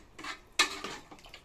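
A spoon stirs paya goat legs curry in a metal pot, giving a few close, light clinks and scrapes in quick succession.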